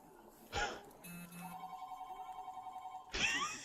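A telephone rings with a steady pulsing electronic tone lasting a couple of seconds, framed by short bursts of other noise and voices before and after.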